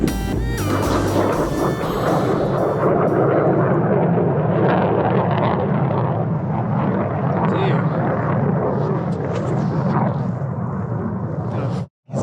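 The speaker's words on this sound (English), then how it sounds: "Second supersonic plane that's flew overhead" A supersonic jet plane flies overhead during a snowboarding outing in a blizzard, a loud, sustained, broadband roar that fills the whole stretch before cutting off abruptly at the end.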